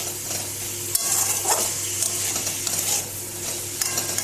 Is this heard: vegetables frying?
yes